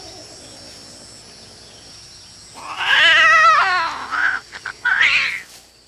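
A female cat gives a loud, harsh yowling cry right after mating, a drawn-out wavering caterwaul followed by a few shorter, sharp yowls, close and with no voices.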